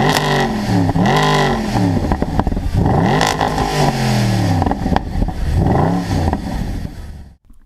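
A 2012 Mercedes SLS AMG supercar engine revs hard in several loud, close sweeping bursts, rising and falling pitch repeatedly before cutting off abruptly at the end, with no talk.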